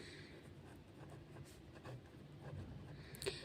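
Soft scratching strokes of numbers being written during a maths lesson on place value. The marks are faint, short and irregular, close by in a quiet room with no voices.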